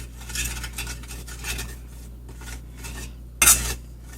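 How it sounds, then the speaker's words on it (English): Spicy pasta sauce being stirred in a pan with a metal utensil, giving soft scraping and clinking strokes at an uneven pace, then one sharp, louder clank near the end. "We can stir it up if we'd like. Get it all mixed in so that it's sort of distributed evenly throughout the pan."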